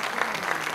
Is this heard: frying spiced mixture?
no